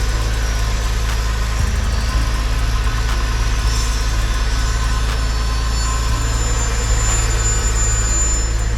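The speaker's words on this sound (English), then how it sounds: "Car is started." A car engine idles steadily right after its first start, a loud, close, continuous low hum with a faint metallic ticking on top.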